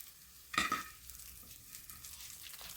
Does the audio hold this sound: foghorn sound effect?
no